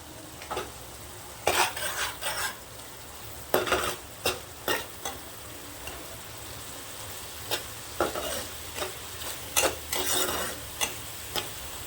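An egg dish fries in a pan while a spatula stirs it, giving repeated scraping strokes in irregular bursts over a constant soft sizzle, close by and with no talking.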